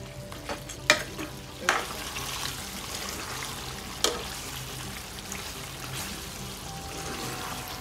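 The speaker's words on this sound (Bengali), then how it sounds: "এখন একটু উল্টে পাল্টে কষিয়ে নিচ্ছি আর জালটা একটু বাড়িয়ে দিচ্ছি।" Beef stirred and fried in a pan for a cabbage curry, a steady sizzle broken by several sharp spatula scrapes and clinks, close and moderately loud with no talking.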